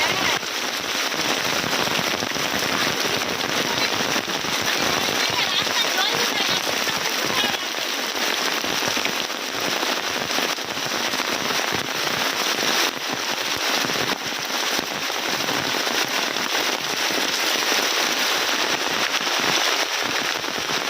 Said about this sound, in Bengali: সারা দিন সারা রাত বৃষ্টি হচ্ছে এরকম।